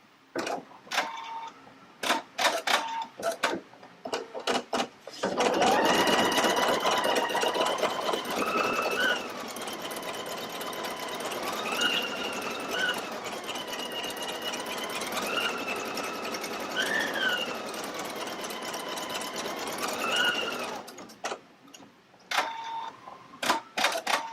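A Pfaff Creative Icon 2 sewing machine stitches out an embroidery design, starting after a few scattered clicks and running as a fast, steady mechanical chatter with rising and falling motor whines, then stopping with more clicks.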